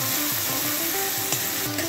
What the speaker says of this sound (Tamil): வெங்காயம் நல்லா வதங்கியாச்சு. இப்போ நான் வந்து ஒரு 1 கப் தக்காளி எடுத்துக்கேன். அதுவும் சேர்த்து நல்லா வதங்கட்டும்.